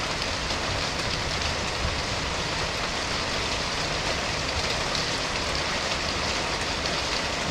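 Steady rain falls outside a parked truck as a dense, even hiss of drops on the cab. It is continuous and fairly close, with no talking over it.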